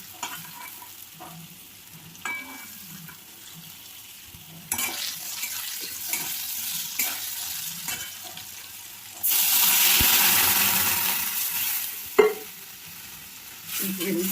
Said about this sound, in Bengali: দিয়ে আলুগুলো আরেকটু ভেজে জল দিয়ে দেবো সেদ্ধ হতে।